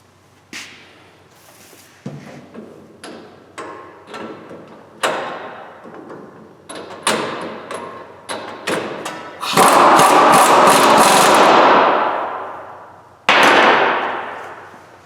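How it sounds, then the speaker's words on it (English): Repeated metallic thuds and clangs ring out close by while an upper ball joint goes back into a Ford Expedition's suspension, then a loud sustained air-tool burst, a pause, and another burst. "I'm going to reinstall my upper ball joint."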